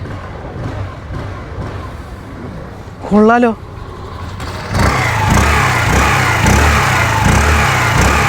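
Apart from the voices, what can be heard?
Hero Xoom 125 scooter exhaust while revving the engine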